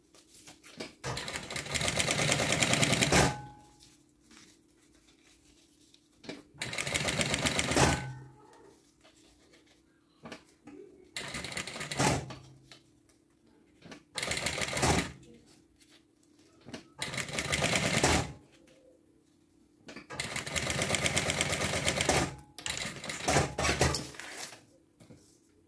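Sewing machine stitching a fabric lining to the main body of a zippered cosmetic pouch, running in five loud bursts of steady whirring separated by short pauses, close up with no talking.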